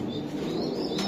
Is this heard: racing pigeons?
yes